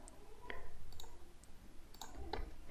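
A computer mouse clicks a few times while layers are set up in CAD software, with sharp, sparse clicks sitting over a steady low background hum.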